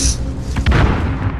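A stun grenade detonates in the Warzone video game, a deep, loud boom with a rumbling low-end thump that swells and lingers over the short stretch.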